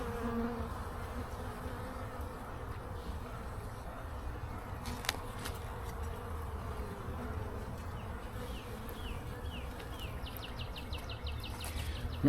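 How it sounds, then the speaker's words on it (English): Honey bees at an open hive, with a continuous soft buzzing drone, individual bees passing near now and then, and faint bird chirps in the distance. "Plenty of bees."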